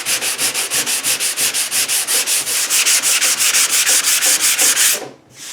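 Block sanding body filler on a 1968 Mustang decklid, a loud, close, rhythmic rasping of steady back-and-forth strokes, about five per second, ending abruptly, with no talking.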